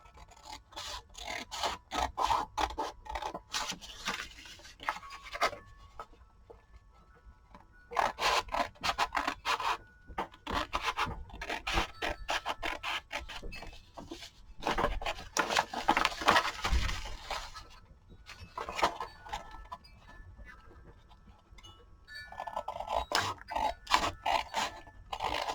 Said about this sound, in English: You're just going to cut that same corner on the opposite side.